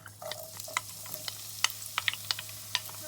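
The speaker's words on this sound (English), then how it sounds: "Now after it has heated up, we just add in our onion and we saute this." Onion sautés in a mix of olive and canola oil with a soft, steady sizzle broken by sharp spatula taps and scrapes against the pan in an irregular rhythm; no voices.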